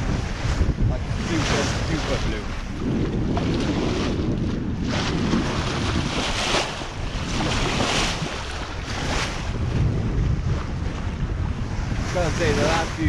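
A sailboat under way on the open sea in wind, with steady rushing water and surf along the hull and gusty wind buffeting the microphone, loud and continuous throughout.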